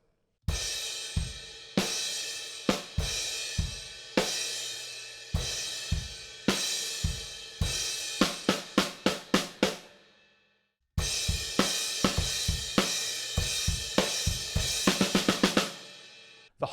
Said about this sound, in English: That fill happens again, but I think there's one extra kick drum in the beat.